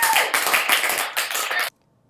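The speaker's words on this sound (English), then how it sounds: "Clap for Matthew." Clapping for a school news presenter, a close, bright flurry of hands in uneven bursts that stops abruptly into silence.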